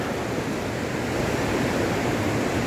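Waterfall beside a mountain trail in Nepal, on the trek from Phakding to Namche toward Gokyo Lake, gives a steady, loud rushing roar of falling water that holds constant throughout with no voices.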